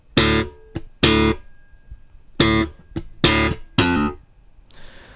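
A bass guitar plays a short lick with pull-offs, plucked notes, some quick and ringing, others short, with brief gaps between phrases; clear and up close.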